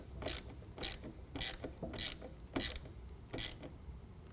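A ratchet tightening a bolt while installing a Retrax IX tonneau cover on a 2021 Ford F-150, six short clicking ratchet strokes in a steady rhythm, close and fairly quiet.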